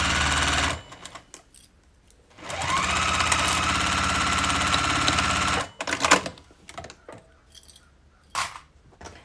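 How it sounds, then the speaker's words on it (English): Sewing machine stitching a seam with 3/8 inch allowance on a tote bag lining, two sustained bursts of rapid, close mechanical chatter separated by pauses, with fabric handling clicks afterward. "And then we'll sew across here with a 3/8 of an inch seam allowance."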